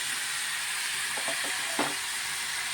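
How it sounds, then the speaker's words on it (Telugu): Chopped tomato, onion and green chilli sizzle in a pan for an egg omelette masala curry, a steady bright hiss with a few soft stirring scrapes and no talk. "కొంచెం దోరగా ఫ్రై చేసుకున్నాం"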